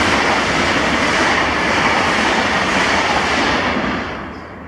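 A ScotRail passenger train, the Glasgow Central to Lanark service, runs through Carluke station with a loud, continuous roar and rail clatter that eases slightly near the end.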